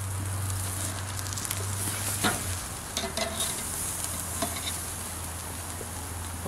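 Steaks sizzle over flaring charcoal on a Weber Smokey Mountain cooker, a continuous crackling fry with scattered pops and scraping ticks, steady and fairly close, with a low hum underneath and no talking.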